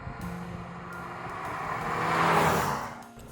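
Engine of a 2021 Jaguar XF car building steadily as it drives, rising to a louder peak near the end before easing off, heard close with no talking.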